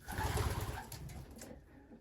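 Pigeons cooing inside a large racing-pigeon loft, soft overlapping coos and faint rustling at close range, fading toward the end.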